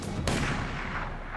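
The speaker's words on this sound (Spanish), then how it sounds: "Los otros dos también habían escuchado el disparo." A single loud, sharp gunshot in a snowy Kyrgyzstan blizzard cracks out and rolls into a long fading echo, heard alone with no voices.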